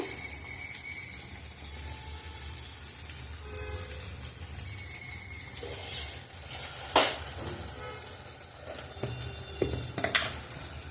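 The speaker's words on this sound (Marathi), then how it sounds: "आता मी टोमॅटो टाकते, त्याचबरोबर मी थोडी हळद टाकते." Cabbage cooking with potato and moong dal sizzles in a pan as tomato and turmeric are added, a steady frying crackle broken by a few sharper clatters of stirring and the pan.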